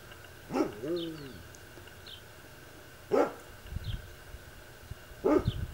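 A dog outdoors barks in three separate bursts, moderately distant, with a whining yelp early on, against quiet outdoor background at sunset.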